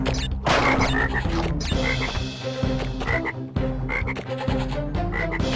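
Repeated frog croaks from Crash Bandicoot Warped, loud and close, arriving in a steady rhythmic pattern over constant game music and sound effects, with no talking.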